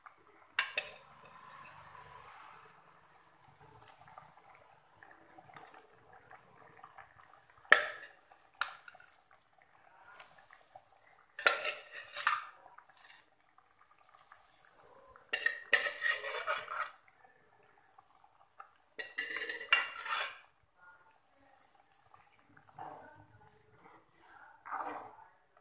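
Elephant foot yam pieces dropped into a simmering curry in a pot, with repeated clatter of a metal spoon scraping and stirring against the pot in short bursts, close by and moderately loud.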